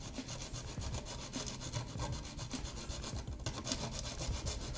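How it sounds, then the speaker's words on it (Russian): A needle file sharpens a dull metal kitchen grater in quick, steady rasping strokes, close and continuous, with no talking. "берем нашу терку и берем вот так вот надфиль"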